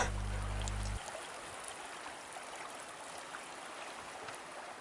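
Fast, swirling tidal water on the Conwy River gives a steady rushing wash of broadband noise, constant and fairly close, with no voices.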